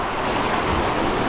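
Sea waves rush against a sailing boat on an offshore passage between Sweden and Scotland at night, with wind buffeting in a dense, continuous roar and no speech.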